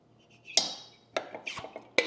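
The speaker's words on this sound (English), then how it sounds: "Let's pop open the top." A canning jar of Cajun soup being opened: a few sharp metallic clicks and a pop of the lid, followed by brief clinks of glass and metal, close and clear.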